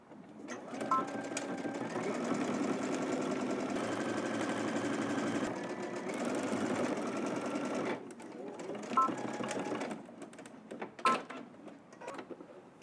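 A sewing machine stitches a seam around a sleeve cuff at a 5/8-inch seam allowance, whirring in one long steady run, then giving a few shorter bursts with brief pauses, close and moderately quiet.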